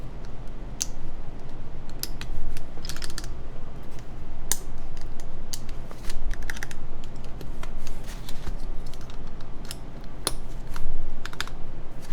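Mechanical keyboard fitted with Holy Panda tactile switches, snappy heavy keys, typed in a steady stream of sharp close clicks and clacks, loud and alone without talk.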